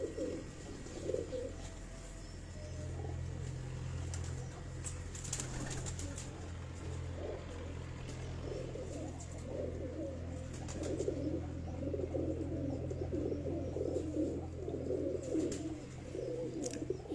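Pigeons cooing from a rooftop, a continuous low, throaty cooing close by that goes on throughout, with occasional chirps and faint wing flutters over a quiet outdoor background.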